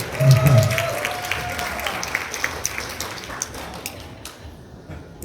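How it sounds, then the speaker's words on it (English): A talk show audience applauds a roast rebuttal, the clapping starting fairly full and then thinning into scattered individual claps that fade out over a few seconds. "So give a round of applause for the first time"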